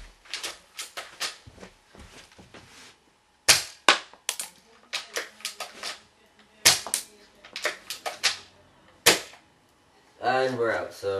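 Airsoft gun shots fired at a protective mask: a series of sharp, loud cracks in irregular bursts, close by, with brief clattering impacts and a short stretch of breathy noise at the end, no talking.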